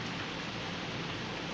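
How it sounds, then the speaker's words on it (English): A samosa fries in hot oil with a steady, dense sizzle and crackle, faint and continuous with no voices. "You see, the samosa is frying."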